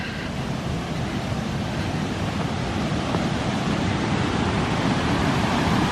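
A waterfall near a mountain campsite gives a steady, dense roar of rushing water that holds an even loudness throughout, with no voices over it.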